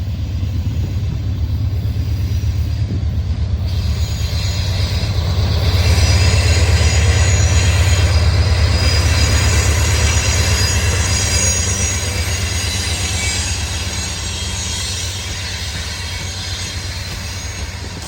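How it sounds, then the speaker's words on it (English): A long freight train rolls past close by, a steady heavy rumble of wheels on rails with high metallic squeals running throughout. "the trains just keep rolling by"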